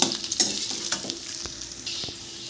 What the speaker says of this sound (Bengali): আলু দিয়ে পেঁয়াজের সাথে একটু তিন চার মিনিট মতন ভালো করে ভেজে নেব